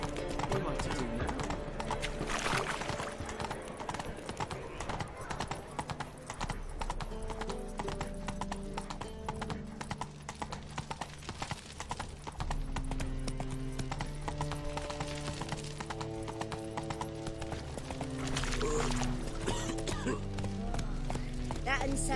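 Horse hooves clip-clop at a steady galloping rhythm in The Witcher 3: Wild Hunt, mixed under dense game music and occasional voices, with a whinny breaking through now and then.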